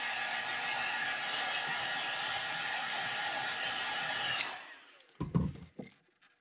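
A heat gun or dryer heat-sets black paint on a fishing lure, blowing a steady loud whoosh for about four seconds before switching off, followed by a few close handling knocks.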